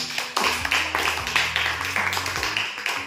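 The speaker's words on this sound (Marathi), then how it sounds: "म्हणून एकदा वैभवीसाठी जोरदार टाळ्या" Audience applause for a contestant on a Marathi quiz show, a dense burst of clapping that starts sharply and holds steady at a fairly loud level for about three seconds.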